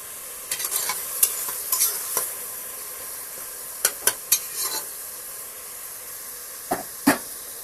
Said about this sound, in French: C'est très important de laisser la tomate bien mijoter pour avoir la couleur rouge de l'huile.